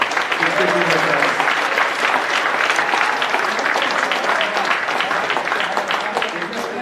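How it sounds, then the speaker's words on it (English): Sustained audience applause at an outdoor peace rally in Washington, DC, dense steady clapping and crowd noise filling the whole stretch at high volume. "Give yourselves a round of applause for being here today."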